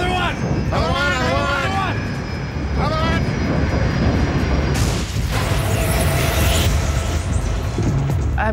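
A fixed-wing airplane at a crash scene roars loudly and steadily throughout, its engine noise filling the whole stretch while frantic voices shout over it.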